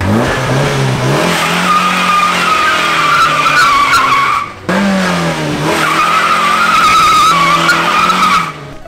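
A Mazda MX-5 with wheels spinning in place, tires squealing loudly and steadily over a high-revving engine in two long bursts split by a short break, close and with no talk.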